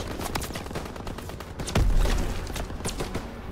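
Dense gunfire in the World War II shooter Call of Duty WWII, with rapid bursts and scattered cracks plus one heavier, booming shot midway, loud and close.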